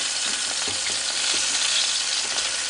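Food sizzles and fries steadily in a Kalorik MAXX 16-quart digital air fryer oven as the pieces are flipped, with a constant hiss and a few soft clicks and scrapes.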